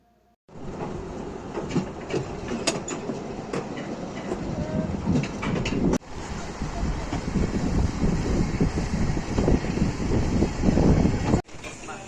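An amusement park ride running on a holiday outing, a loud continuous rumbling and rattling roar with clattering like a train on rails and wind noise, steady and close throughout.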